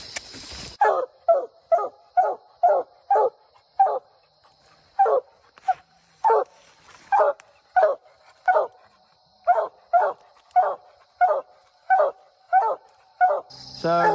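A coonhound bays treed at a tree during a night coon hunt, giving a steady run of about twenty-five short, evenly spaced barks at moderate distance, with a brief burst of other noise at each end.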